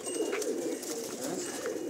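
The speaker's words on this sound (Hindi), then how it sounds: "बहुत अच्छा कबूतर है, बहादुर कबूतर है साना" A pigeon coos softly on a village rooftop, low murmuring calls repeated over a faint steady background, fairly quiet and without speech.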